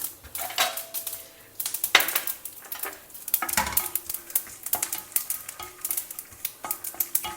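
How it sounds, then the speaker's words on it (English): Peanuts and mustard seeds roasting in a pan, with scattered clinks and scrapes of stirring and a soft sizzle, rhythmic metallic taps repeating throughout at moderate loudness, no voices. "The peanuts are also well roasted now."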